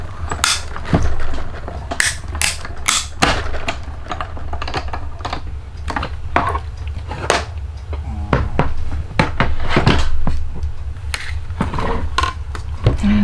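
Hand-cranked die cutting machine pressing paper for handmade flowers: a close, irregular run of clicks and clacks over a low mechanical rumble as the crank turns, with no talking.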